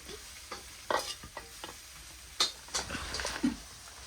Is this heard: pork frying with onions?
yes